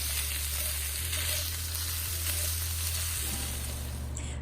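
Beef and tomatoes frying in a pan for a beef ramen noodle dish, giving a loud, steady sizzle that runs without a break over a constant low hum.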